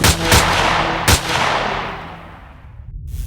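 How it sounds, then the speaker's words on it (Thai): Three loud gunshots crack out across a village at night, closely spaced with booming reports, each trailing into a long fading echo before the scene quiets. "เสียงลั่นไกปืน ดังสนั่นไปทั้งหมู่บ้าน"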